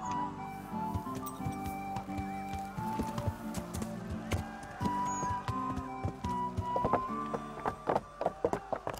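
Horse sounds in the medieval video game Kingdom Come: Deliverance: snorts and hoof clops mixed with light clinks of tack, coming in uneven bursts that grow busier toward the end.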